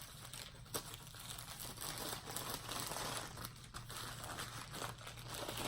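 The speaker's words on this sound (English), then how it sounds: "there's a lot of bubble wrap" Bubble wrap crinkles and crackles steadily while a diamond painting kit is unboxed, a dense, close rustling texture with a few sharper crunches and no talking.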